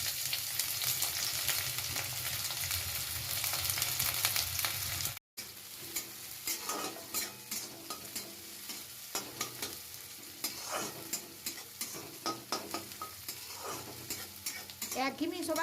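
Onion drops into hot mustard oil with a loud, dense sizzle for several seconds, then the frying quiets to a softer crackle under frequent close scrapes and taps of a spatula stirring; no one speaks.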